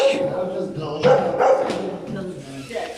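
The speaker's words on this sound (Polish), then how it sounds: "A co oni mają psa?" A dog barks a few times nearby, mixed with whiny yips, while people chatter in the background.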